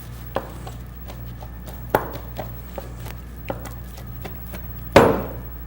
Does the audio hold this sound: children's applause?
no